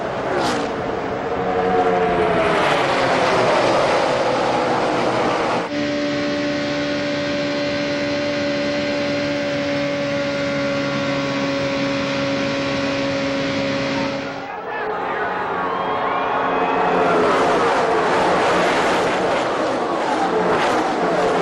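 NASCAR stock cars race at Talladega in 2008, a loud, continuous roar of engines as the pack streams past, swelling and fading in turn, with race commentary speaking over it.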